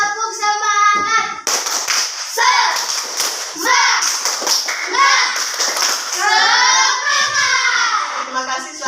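A class of children claps a rhythmic spirit clap in unison, with bursts of patterned claps alternating with chanted children's voices, loud and close.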